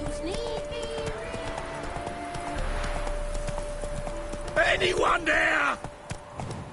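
A horse's hooves clip-clop in The Witcher 3, a muffled rhythmic trot beneath in-game speech and a background musical tone, with a louder burst of voices and movement toward the end.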